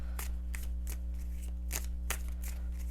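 Tarot cards being shuffled by hand, a series of soft papery riffling bursts repeating at a fairly steady pace over a constant low hum, with no voices.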